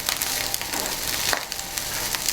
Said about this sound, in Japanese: 今この音でパチパチ言ってる音、これがもう水分が飛んできてるんです